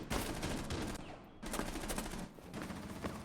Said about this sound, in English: We do see some gunfire coming out, going after Belgo.